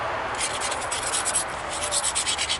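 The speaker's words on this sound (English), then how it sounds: "I'm just going to grind the whole edges so I don't cut myself on this." An obsidian slab being ground along its edges during flintknapping, a dry, rasping scrape that comes in uneven strokes and grows stronger toward the end, close and fairly quiet.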